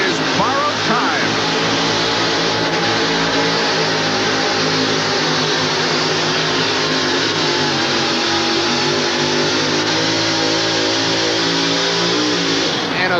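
A 2WD pulling truck called Borrowed Time roars at a 1989 Anaheim stadium truck pull, its engine holding a loud, sustained drone with rising revs for the whole stretch. A public-address voice comments over it.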